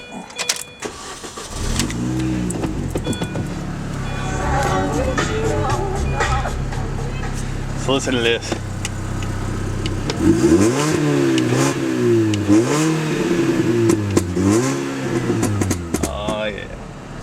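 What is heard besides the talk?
2006 Mini Cooper S starting and revving, high-flow exhaust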